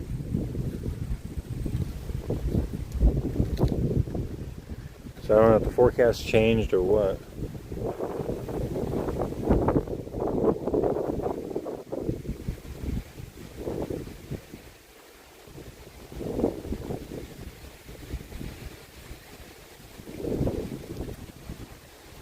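Wind buffets the microphone with a steady low rumble while someone talks over it, outdoors near water in East Tennessee in fall.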